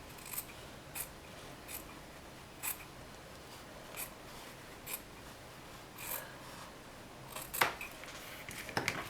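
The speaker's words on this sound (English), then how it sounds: "I'm just going to take my scissors, and I'm just going to slice that open along that fold" Fabric scissors snipping open a sewn seam along a fold, a series of quiet, separate close-up cuts spaced about a second apart, quickening near the end.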